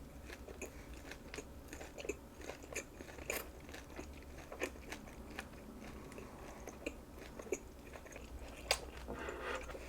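Close, quiet chewing of crispy fried sweet-sour pork (guobaorou) with repeated crisp crunches and soft bites, irregular throughout, with no talking.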